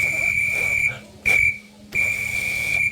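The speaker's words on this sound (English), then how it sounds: "a policeman is trying to get his attention by blowing on a police whistle" A shrill police whistle from an old-fashioned movie sound-effects machine blows three times, two long blasts around a short sharp one, loud and close with no talking.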